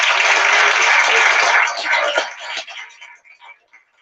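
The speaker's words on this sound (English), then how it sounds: "Let's get out some claps" A podcast studio crowd claps in a dense burst of applause for about two seconds, then it thins into scattered, tapering claps before fading out.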